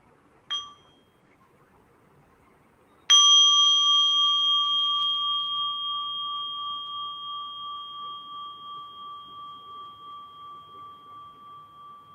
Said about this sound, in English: listen to the sound of the bell.